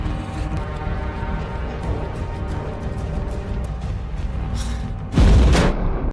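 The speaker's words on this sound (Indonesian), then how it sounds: "tank Tiger mengeluarkan tembakan yang mengarah ke tank Jerman lainnya" A Tiger tank's cannon fires in a war film: one loud, heavy blast bursts out near the end after a stretch of low rumbling background score.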